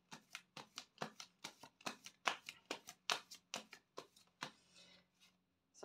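Cards are shuffled for a mirror-spread tarot reading: a quick run of about fifteen crisp riffling snaps in a steady rhythm, close and fairly quiet, then the cards settle.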